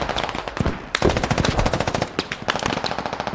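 Rapid machine gun fire in the military video game Squad, dense sustained bursts close and loud with a brief gap near the start, no voices over it.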